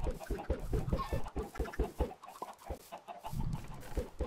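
Chickens cluck in the Minecraft video game, with rapid rhythmic bursts of clucking that stop briefly before another quick cluster of calls.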